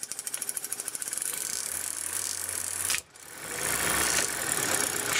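Super 8 film projector running after grease was cleaned from its mechanism, a steady fast mechanical clatter and rattle that dips for a moment, then resumes loudly and evenly.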